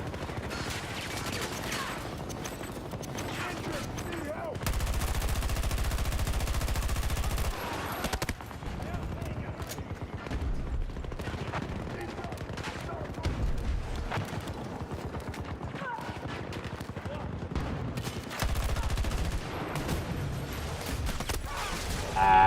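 Gunfire and a grenade in the video game Battlefield, with dense bursts of rapid shots and loud sustained blasts coming in waves, layered under game noise throughout.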